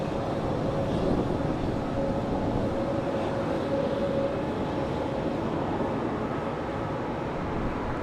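A Frontier airliner taxis at Charlotte Douglas airport, a steady distant engine rumble and whine holding evenly throughout, with wind noise and no voices.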